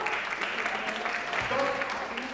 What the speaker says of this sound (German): ganz einfach geliebt. Applaus!